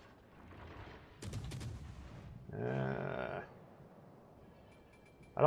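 Naval ship guns firing in the World of Warships Legends video game, a few distant booming shots and a rumbling salvo with a lingering tail, then a sharp closer blast at the end.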